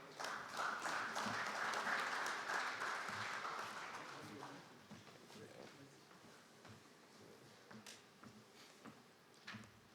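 Conference attendees at an agriculture dialogue session applaud a speaker, an engineer. Dense clapping fills the first few seconds, then thins to scattered claps as a voice begins talking over the fading applause.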